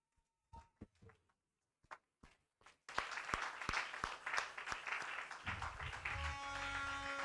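Congregation applause in a church during a Sunday worship service, a few scattered claps at first, then a loud sustained burst of clapping that keeps going to the end.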